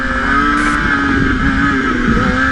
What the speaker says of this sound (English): I'm running a wheelie right now.